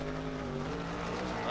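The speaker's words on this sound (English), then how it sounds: "Look at the car take off" A drag racing car launches off the line, its engine roaring loud and steady with a dense rumble, while a commentator talks over it.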